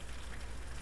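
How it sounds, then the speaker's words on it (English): Rain beginning to fall outdoors, a steady soft hiss of drops heard as a brief, even wash of sound with no voices. "It's starting to rain now"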